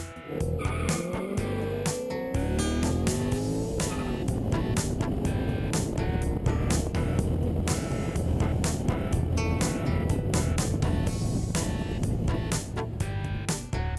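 A Camaro accelerates hard on a speed stop run, its loud engine roaring with rising pitch and gear changes, joined by tire noise, with no talk.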